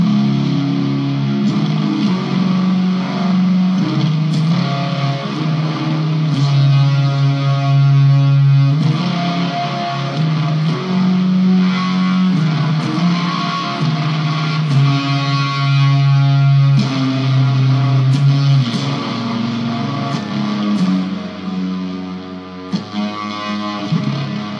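Electric guitar fed through tremolo, chorus and overdrive pedals into a 13 915 amp and filtered by a Dunlop bass wah, playing a sustained, pulsing riff with sweeping tone, loud and steady with no talking.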